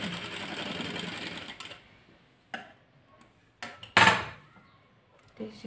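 A sewing machine runs a burst of stitching on blouse fabric, then stops, leaving scattered sharp taps and clicks of handling close by.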